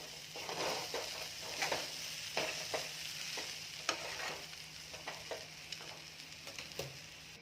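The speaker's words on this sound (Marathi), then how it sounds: "आता ही कोथिंबीर या चिवड्यामध्ये अशी मिक्स करून घ्यायची आहे" Coriander being stirred into bajra bhakri chivda in a pan: a soft continuous sizzle under repeated scraping and rustling strokes of a spoon, close and fairly even, with no voices.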